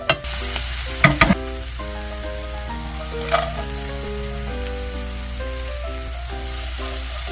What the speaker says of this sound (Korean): 향이 올라오면 천천히 볶아주세요.